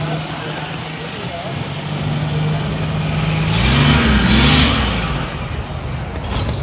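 A Suzuki pickup's engine runs steadily, a low idle hum with a brief rise in revs midway, heard close up with someone talking over it.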